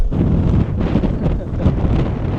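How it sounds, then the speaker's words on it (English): Steady, loud wind at an exposed coastal spot by Cape Pembroke Lighthouse, Falkland Islands, buffeting the microphone with a constant low roar, gusting slightly throughout and no other distinct sounds. "it's a very exposed spot, so it's usually always windy here"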